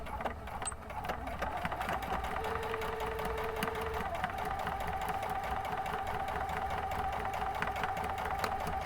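Sewing machine runs at a slow, steady pace with a long stitch, stitching through thick foam-backed fabric lining for a rectangular basket, a continuous mechanical whir and fine rhythmic clatter heard close and alone.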